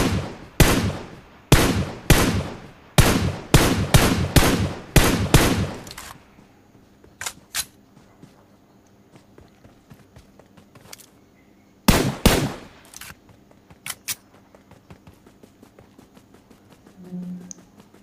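Gunshots in PUBG Mobile ring out as a rapid series of about ten loud, evenly spaced cracks, followed by quieter scattered shots and another close pair of bangs.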